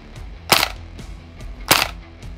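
Two quick two-round bursts from an Elite Force Vulcan gas airsoft gun, each a pair of sharp cracks close together, about a second apart, loud and near with no talking.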